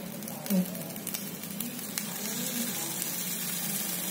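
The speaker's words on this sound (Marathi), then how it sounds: "तेल घालते मी," Oil heating in a hot pan for salt-stuffed fried chillies, giving a steady close sizzle and crackle that holds evenly throughout, with a few faint clinks and no talk.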